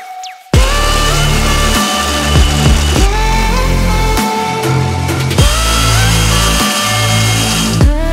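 DX High Speed dry drill bits bore into hard material with a loud, steady, grinding whine, broken by brief pauses and restarts as pressure shifts, close to the microphone with no talking.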